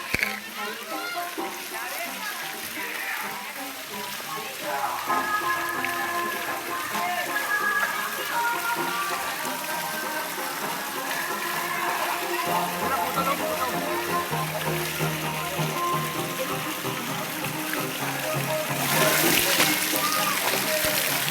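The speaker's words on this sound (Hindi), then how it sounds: "ये तो ऊपर से पानी गिर रहा है।" Water pours down from above at a water park, a steady rushing splash that runs the whole time beneath lively voices and crowd chatter.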